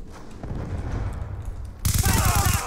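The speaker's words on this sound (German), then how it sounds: "weil die Schüsse ja durch 2 Meter Beton kommen" Automatic gunfire in the video game Black Ops 2, a Team Deathmatch on the Vertigo map from Uprising, bursting loud and sharp after a stretch of quieter background game sound and distant shots.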